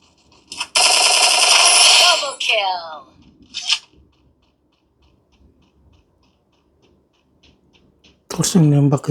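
Game gunfire from a shooter played on a Samsung Galaxy A06 5G phone, a loud sustained automatic burst followed by a shorter shot, then another loud burst near the end, with a voice talking in between.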